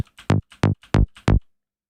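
Four short synth bass notes with a bright, buzzy open-filter tone, evenly spaced, each ending in a quick decay, followed by silence.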